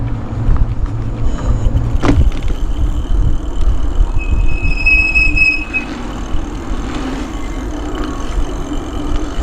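A train rolls past near a station in Scotland, a loud close rumble of wagons with high wheel squeals ringing out midway, no voices.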